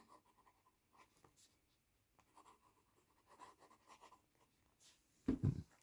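Fine-nib TWSBI 700R fountain pen writing in a paper book, soft intermittent scratching strokes that are faint and close, ending with a louder low thump of handling.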